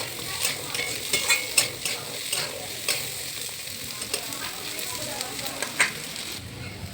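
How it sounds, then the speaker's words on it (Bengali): Potatoes sizzle in a hot pan as a utensil stirs and scrapes them, with sharp clinks over a steady frying hiss, fairly close and moderately quiet, no talking. "আমি আলু প্রথমে দিয়ে দিলাম"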